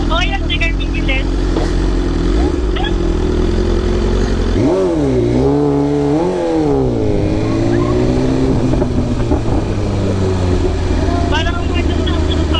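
A motorcycle on a ride speeds up, its engine note climbing and wavering in pitch as it accelerates, loud and close beneath steady road noise, with people talking over it.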